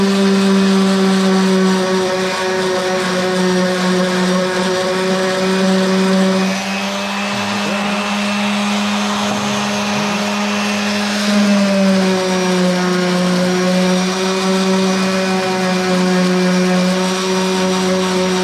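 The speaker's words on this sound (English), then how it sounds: "We're going to sand both of those, and then we're going to flip it over" A power sander running steadily and loudly on the legs of a wooden step stool, a continuous droning whine with slight dips in pitch as the workpiece is pressed and shifted.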